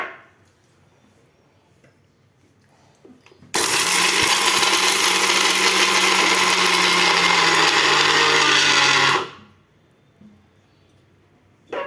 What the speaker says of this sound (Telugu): ఓకే, ఇప్పుడు మిక్సీ పడతాం.